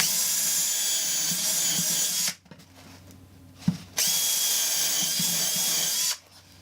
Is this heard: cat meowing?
no